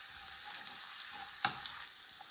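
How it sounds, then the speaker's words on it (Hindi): Onions browning in oil with a spoonful of ginger garlic paste added, giving a steady low sizzle with one sharp splatter burst partway through as the paste hits the hot pan. "अब यहाँ पे अदरक लहसुन का पेस्ट डाल दूंगी।"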